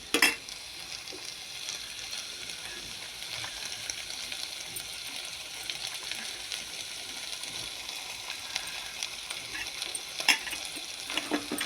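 Food is stirred and scraped in a frying pan over a continuous soft sizzle, with occasional louder clinks of the utensil against the pan.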